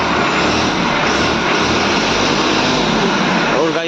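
Tractor engine (model 5620) running through its old exhaust silencer: a loud, steady, broadband roar held constant throughout, close up with no pauses.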